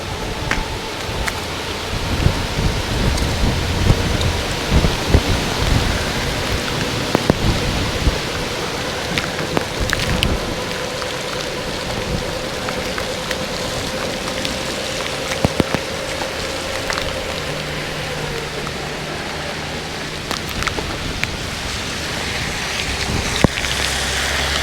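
Heavy rain, close to hailing, pelts down during an E300 scooter ride at Lake of the Isles, a dense continuous roar with scattered sharp impacts throughout.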